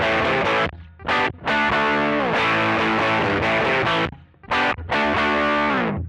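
A heavily distorted electric guitar plays loud chords and riffs through an amp-in-a-box overdrive pedal, with short pauses between phrases.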